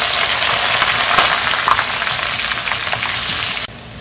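Two medium onions sizzling loudly in oil with cumin, bay leaves and whole chillies for keema, a dense steady crackle up close that suddenly drops away at the end.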